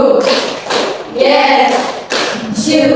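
A Grade VII maths class claps on cue during a microteaching lesson, sharp group claps coming in short spaced bursts as the teacher calls the count.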